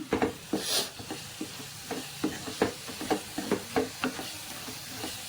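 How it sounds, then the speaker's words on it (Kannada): Egg curry masala stirred and fried in oil, with a continuous sizzle broken by repeated scraping strokes of a spoon against the pan in an uneven rhythm, close and alone with no one talking. "ಸ್ವಲ್ಪ ಚೆನ್ನಾಗಿ ಎಣ್ಣೆ ಬಿಡೋವರೆಗೂ ಇದನ್ನು ಚೆನ್ನಾಗಿ ಹುರ್ಕೊಳ್ಳೋಣ"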